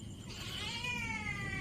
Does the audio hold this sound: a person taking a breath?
no